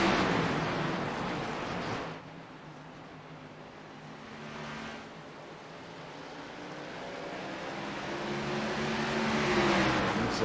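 NASCAR race cars at North Wilkesboro Speedway in the iRacing sim roar past, a loud engine burst fading to a lower drone before more cars swell in, with rising and falling pitch as they pass.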